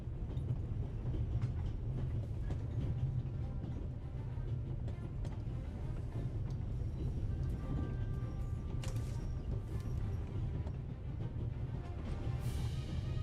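An out-of-control train rolls through the Alps in The Raven Remastered game, a continuous low rumble and rattle of wagons with faint metallic clacks and squeals, no talking.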